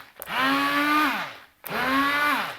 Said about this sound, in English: you take a blender or mixer and you're going to